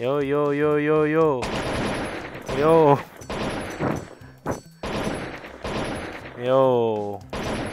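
AK rifle fire in a gangster war video game crackles in repeated bursts, loud and close, mixed with game voices and a brief spoken exclamation.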